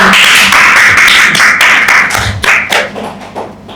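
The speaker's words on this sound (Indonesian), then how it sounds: "tepuk tangan Bapak Ibu" Audience clapping, a dense burst of many hands that starts strong and gradually thins out and fades over a few seconds.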